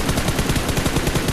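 Gunfire in the mobile battle-royale game PUBG Mobile: a short, loud burst of rapid, evenly spaced automatic shots filling the whole moment.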